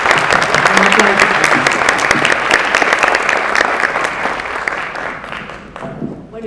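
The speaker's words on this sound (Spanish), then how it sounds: "Un aplauso." Audience at a business launch event for internationalisation clapping together in a loud, dense burst of applause that holds steady for several seconds before thinning out toward the end.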